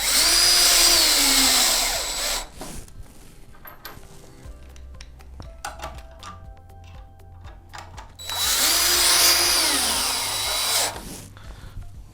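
A power drill drives 1/4-inch structural screws into a floor joist in two loud whirring runs that wind down at the end, separated by quieter clatter and handling noise.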